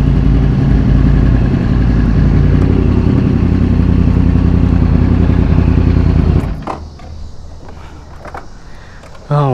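Yamaha R1 sport motorcycle fitted with a Two Brothers exhaust runs loud and steady up close, its low engine drone cutting out after about six seconds, followed by quieter ambient noise.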